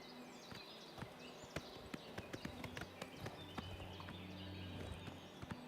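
Horse hooves clip-clop in the Oblivion Remaster video game, a steady walking rhythm of hoof strikes close by over a faint game ambience, with no voices.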